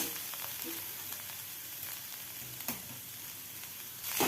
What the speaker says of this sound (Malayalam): ഇടക്കിടക്ക് ഇങ്ങനെ ഇളക്കി കൊടുത്തുകൊണ്ടേ ഇരിക്കണം